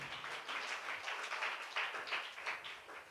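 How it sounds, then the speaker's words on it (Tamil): A church congregation claps hands together in thanks to God, a faint, fairly distant patter of many hands clapping steadily without pause. "நல்ல 2 கையை தட்டி ஆண்டவருக்கு நன்றி சொல்லுங்க"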